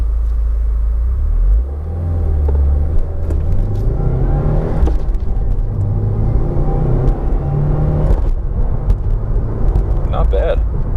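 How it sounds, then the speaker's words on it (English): An all-wheel-drive car with 276 horsepower pulling away from a stop, its engine droning and rising in pitch over a steady cabin rumble, heard from inside with a voice talking over it. "let's see how this thing accelerates off the line"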